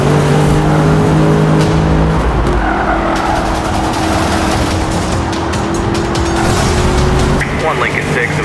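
Racing cars tear along a road in the Need for Speed Rivals video game during a police pursuit, engines roaring and tires squealing continuously and loud, with radio-style voices talking over the action.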